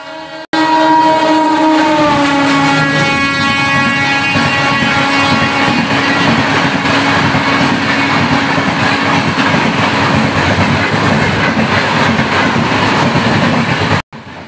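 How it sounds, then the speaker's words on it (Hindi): A superfast LTT express train thunders non-stop through Khairabad railway station, opening with a long horn blast, then a loud, steady roar and rhythmic clatter of wheels close by, ending abruptly. "फिलहाल आप लोग LTT super fast express train का नॉन स्टॉप"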